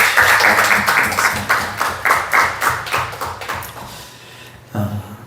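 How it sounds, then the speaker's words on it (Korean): A church congregation applauds the youth choir with rhythmic clapping in unison, sharp regular beats that gradually weaken and stop, followed by a single soft thump. "박수로 한번 같이 해주십시오"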